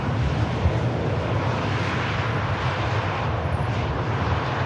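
A small business jet taxis at Manchester Airport, its engine a steady, broad, continuous roar with a low rumble that holds at an even level throughout, with no pauses or talk.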